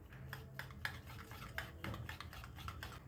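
Homemade malai being whisked in a small bowl with a spoon, a quick run of light scraping and tapping strokes against the bowl, steady and close, with no talk.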